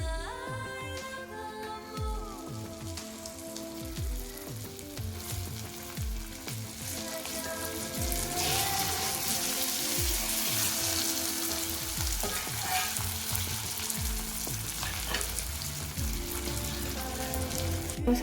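Bitter gourd (karela) slices fry with spices in a hot pan, giving a loud, continuous sizzle with clinking stirs and scrapes close by, and nobody speaks.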